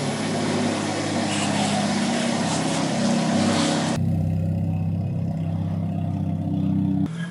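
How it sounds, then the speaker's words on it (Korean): A loud, throaty Hyundai Avante N exhaust drones steadily, its tone shifting partway through as if from a different spot, with no talking. "아반떼 N 자체가 배기음이 큰 모델은 맞는데"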